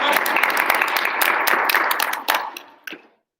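A classroom audience at a debate claps for a debater, a burst of brisk, scattered clapping that thins out and stops after about three seconds, ending with a couple of last claps before silence.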